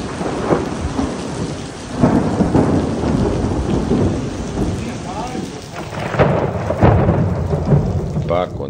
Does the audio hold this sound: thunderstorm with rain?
yes